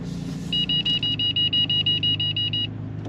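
Mercedes SL warning beeps sounding on a steep slope, a rapid run of about a dozen evenly spaced, sharp electronic beeps close by over a low engine rumble.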